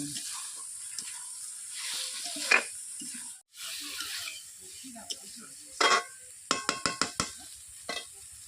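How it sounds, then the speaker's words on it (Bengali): Eggs and potatoes sauté in a pan for a Bengali-style egg and potato curry, giving a steady soft sizzle with scraping stir strokes. A run of sharp spatula clacks against the pan comes near the end. "এরকম করে আমি 5 মিনিট কষিয়ে নিচ্ছি ডিম আলুগুলোকে"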